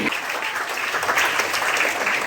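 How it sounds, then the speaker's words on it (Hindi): Loud, dense clapping from a large audience at a school Hindi quiz competition, steady and continuous for the whole stretch with no voices over it. "जोरदार तालियों से स्वागत कीजिए।"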